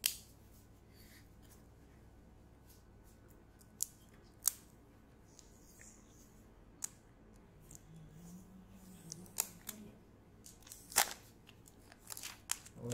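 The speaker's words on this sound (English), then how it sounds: "And now let's get rid of this plastic over here." Plastic wrapping peeled off a Samsung M40 phone: faint crinkles and sharp crackling snaps at irregular moments, close and quiet against a near-silent room.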